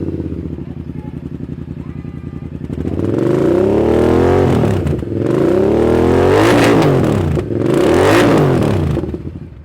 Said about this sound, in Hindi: इस बाइक के इंजन से जो साउंड है वो भी बहुत ज्यादा बेहतरीन आ रही है